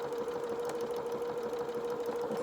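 A sewing machine stitches further along a fabric seam on a pair of shorties or dungarees, a steady continuous mechanical whir holding an even pitch throughout with no pauses.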